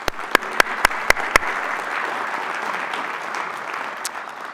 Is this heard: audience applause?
yes